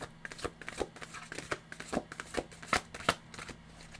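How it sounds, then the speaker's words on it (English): Tarot cards being shuffled close up, a steady run of crisp riffling snaps and soft flutters repeating in quick bursts over a low background hum. "These are actually really, really fun to shuffle, so enjoy some shuffling ASMR"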